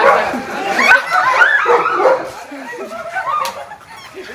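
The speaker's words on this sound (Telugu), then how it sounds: "అది పిచ్చి కుక్క" A dog yips and barks in a rapid run of sharp calls over the first half, then fainter whimpering yelps, with people's voices mixed in nearby.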